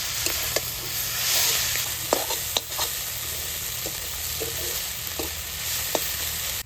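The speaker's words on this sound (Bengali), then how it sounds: "এবার ফাঁকুল পাতা ভালো করে ভেজে নেব" Kharkol leaves fry in a pan with a steady oily sizzle, punctuated by sharp scraping clicks of a spatula stirring them, close and fairly loud with no talking.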